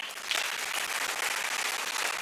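A crowd applauds steadily at a BRICS Youth Council entrepreneurship event at KIIT, Odisha, a dense wash of clapping that holds even throughout.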